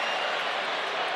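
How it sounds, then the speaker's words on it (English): A stadium crowd at Emirates Stadium during an Arsenal versus Villarreal match claps and roars in a steady, broad wash of applause that fills the moment. "he got a nice round of applause"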